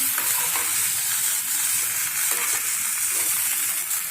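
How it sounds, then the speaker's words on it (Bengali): Boiled potatoes fry in a pan with asafoetida and spices, producing a loud, continuous, dense sizzle heard close up without voices. "এবার আমি দিয়ে দিচ্ছি পটেটোগুলো, বয়েল করা পটেটোগুলো দিয়ে দিচ্ছি"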